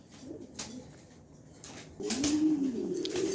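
Racing pigeons coo in soft, low repeated calls, a fuller stretch of cooing swelling up in the second half, close by and with no talk over it.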